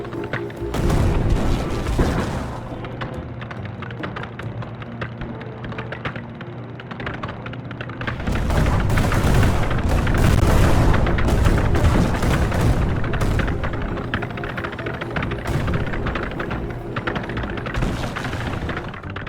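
Explosions in the video game Kin and Quarry, a dense barrage of booming blasts and crackling bursts that swell loudly in waves with brief quieter gaps.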